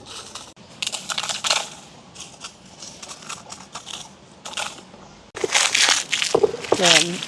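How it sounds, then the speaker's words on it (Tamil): Roasted dried red chillies being ground, a rough crushing and grinding noise in uneven bursts that grows louder near the end, close up, with a voice talking over part of it. "முதல் வந்து செத்தலை அரைப்போம்."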